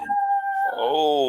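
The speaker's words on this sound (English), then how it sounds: "Jizzle got dogs barking in the background" Dogs howl and whine in the background with long drawn, wavering tones, one sustained cry followed by a rising, harmonic howl, fairly loud and continuous throughout.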